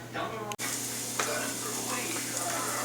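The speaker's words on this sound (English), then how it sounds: "we're going to hit that pan with those shallots. Okay? And when that starts sizzling" Shallots sizzle steadily in a hot frying pan, a close, continuous frying hiss with a brief dropout near the start and small crackles later, no one speaking.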